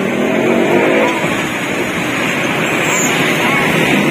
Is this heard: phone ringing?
no